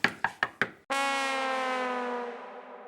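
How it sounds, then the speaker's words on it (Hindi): Four sharp, evenly spaced knocks strike a door up close, followed by a loud sustained ringing tone that slowly fades over a couple of seconds. "भिड़े अंकल, दरवाजा खोलो।"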